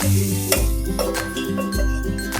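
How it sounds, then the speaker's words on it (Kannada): Finely chopped garlic frying in a spoonful or two of ghee in a vessel for a hotel-style veg soup, an up-close sizzle broken by a few clinks and stirring scrapes over a couple of seconds. "ನಂತರ ನಾವು ಫೈನಾಗಿ ಚಾಪ್ ಮಾಡ್ಕೊಂಡಿರೋಂಥ ಗಾರ್ಲಿಕ್ನ ಹಾಕ್ಕೊಂಡು ಫ್ರೈ ಮಾಡ್ಕೊಳ್ಳೋಣ"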